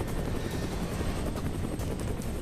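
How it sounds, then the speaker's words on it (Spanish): A helicopter attacks in the video game Prototype 2, a dense, loud, continuous rotor thrum with a rumbling low end that holds steady throughout, with no speech over it. "Me viene a atacar con un helicóptero"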